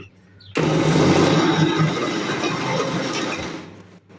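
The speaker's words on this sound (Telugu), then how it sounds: "మరొకసారి మిక్సీ చేసుకోవాలి" A kitchen mixer grinder blends ginger pickle ingredients, including tamarind and jaggery, in its jar. It starts abruptly, whirs loudly and harshly for about three seconds, then winds down and stops.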